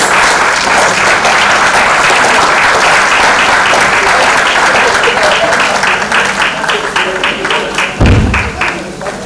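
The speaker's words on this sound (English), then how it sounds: "Please keep clapping so she gets to the seat." Loud, sustained clapping from a conference audience fills the room, then thins toward the end into more distinct individual claps, with a brief thump near the close.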